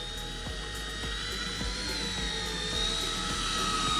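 Horizon Hobby RC plane on floats hovers outdoors, its electric motor giving a steady high-pitched whine with a fast, faint ticking pulse, continuous and fairly close.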